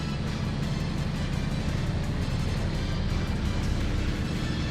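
A car in the Tokyo Xtreme Racer Zero video game drives at speed through highway traffic, giving a steady, loud engine and road drone that does not let up, with no talk over it.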